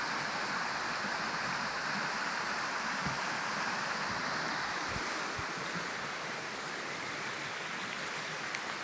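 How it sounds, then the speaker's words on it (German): A stream flowing below a pilgrim path gives a steady, faint rushing wash of water with no voices. "Ah, da unten ist ein Bach."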